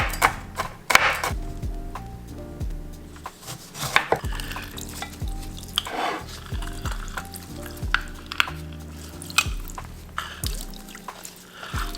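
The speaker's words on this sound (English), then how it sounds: "I'm gonna put gloves on to chop these," Ingredients for a Vietnamese-style papaya salad are chopped finely with a knife on a board, giving a run of sharp, close, irregular knocks over about twelve seconds with no talking.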